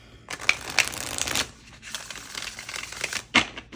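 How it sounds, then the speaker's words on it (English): Tarot cards being shuffled by hand in two bursts of riffling, papery slaps and flutters, a longer run at the start and a shorter one near the end, close and fairly quiet with no talking. "One more shuffle."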